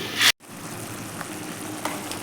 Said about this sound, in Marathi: आपण एखाद मिनिटभर हे वाटण परतून घेऊया